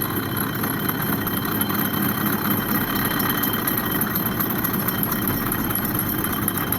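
A steady generator engine drones and idles without pause at a truck workshop, a constant low rumble with a faint high whine, and no voices.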